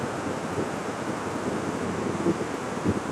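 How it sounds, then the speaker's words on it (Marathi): The Beas river, swollen after a night of heavy rain in Kullu-Manali, rushes in a dense, continuous roar of water, loud and unbroken with occasional surging thumps. "व्यास नदी रात्रीपासून पावसाचा जोर वाढल्यामुळे खूप सारं पाणी हे वाढतच जात आहे"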